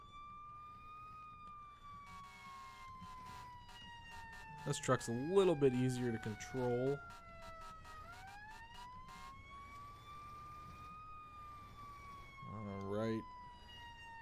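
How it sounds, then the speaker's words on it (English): A fire truck siren wails steadily in a firefighting video game, its pitch sliding up and down across the whole stretch, while someone talks over it in a close voice. "And hit the siren."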